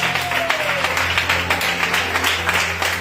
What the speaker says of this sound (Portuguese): se desejar, aplaudir o Senhor com glórias, aleluias